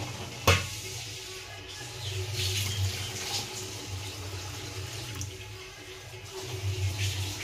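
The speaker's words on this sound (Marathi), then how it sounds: "नळाचा आवाज येतच असं मिस्टर आंघोळ करता आहे" Tap water running in a home bathroom while someone bathes, a steady splashing gush in the background after a sharp knock at the start, rising and falling slightly.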